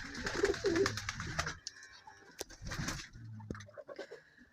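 Modena pigeons coo in low, throaty bursts, several soft calls nearby with brief pauses and a few scuffling noises between them.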